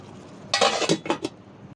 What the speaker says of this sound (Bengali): এখন একটু ঢাকা দিয়ে দিই